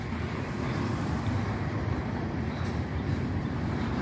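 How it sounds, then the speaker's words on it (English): A long freight train rolls steadily past at a Norfolk Southern railyard, a continuous loud rumble of wheels and cars with no breaks and no voices. "Well, she's bound to end at some point. It's a long train."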